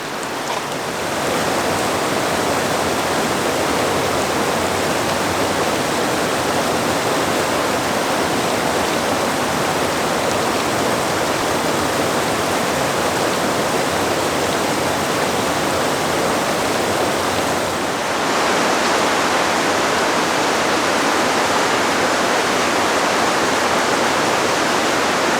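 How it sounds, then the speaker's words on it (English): A small waterfall inside a dripping cave pours steadily, a dense, even wash of falling water that stays close and loud the whole time with no voices. "To the left of me here, there's a little waterfall. I don't know if you can see it, but there's water dripping down."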